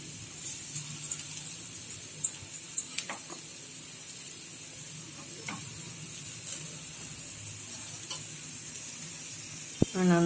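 Soybean dosa batter topped with carrot and onion cooking on a hot pan, a faint steady sizzle with occasional light clinks and taps, close and without speech.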